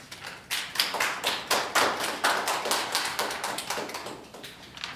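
A crowd at a school opening ceremony applauds steadily, a dense patter of many hands clapping together at moderate loudness, with no voices over it.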